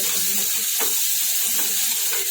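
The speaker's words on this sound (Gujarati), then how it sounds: "હવે આપણે શેકી લઈશું।" Green garlic, ginger and green chillies sizzle steadily in hot oil in a pan, a continuous close frying hiss with faint stirring scrapes underneath.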